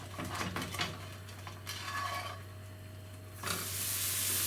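A peanut butter, cheese and egg sandwich fries in a pan toward golden brown, giving a steady close sizzle with a low hum and occasional utensil scrapes, swelling louder near the end, no talking.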